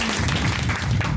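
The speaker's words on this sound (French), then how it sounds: "Eh bien, bravo, on peut t'applaudir." A short burst of applause from a small group in a studio at the end of a talk-show episode about tools for electricians, dense and steady for just over a second.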